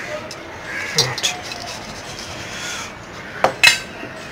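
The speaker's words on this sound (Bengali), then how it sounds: "বালি মাটি নিচ্ছে 1 চামচ।" A spoon scoops sandy soil for potting an adenium, with a soft gritty scrape near the start and a couple of sharper metallic scoops near the end, against quiet background.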